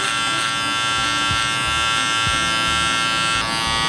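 Electric hair clippers buzz steadily and loudly, close up, while trimming a beard, with the lever open for blending; the hum wavers slightly as the blade moves through the hair.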